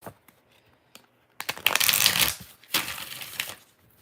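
Tarot cards being shuffled in two rapid riffling bursts, close and crisp, separated by a short pause, with light taps and handling of the deck before them.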